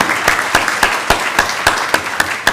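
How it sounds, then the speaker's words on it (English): Applause for school band students at a church service: crisp, evenly spaced claps in a steady rhythm, fairly close and clear, with no voices over them. "So let's give all our band kids a round of applause, especially those in this room."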